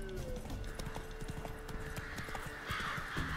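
Roach, the horse in The Witcher 3 video game, gallops with a steady rapid clip-clop of hooves. Continuous game ambience plays underneath.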